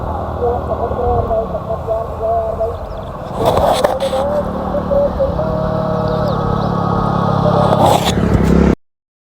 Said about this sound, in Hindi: रोड पे क्या है गाड़ियाँ वाड़ियाँ निकल रही है, तो इसके अंदर शायद गाड़ियों की आवाज़ भी रिकॉर्ड हो चुकी है